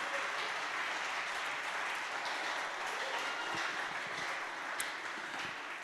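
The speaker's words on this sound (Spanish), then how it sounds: "Dele fuerte ese aplauso al Señor" A church congregation at a Spanish-language service applauds loudly and continuously, with dense, sustained clapping from many hands filling the room throughout.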